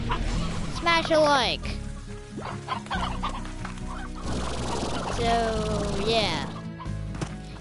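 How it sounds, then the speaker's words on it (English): Chickens cluck repeatedly close by, with rising squawking calls and scattered fowl chatter, while a person talks over them. "Chickens"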